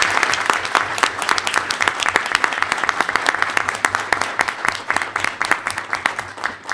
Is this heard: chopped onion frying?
no